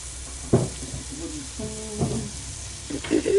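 A spoon scoops and scrapes sticky canned Hawaiian pineapple beans in a bean dish, giving a few soft, wet, squelching strokes spaced apart, close and fairly quiet.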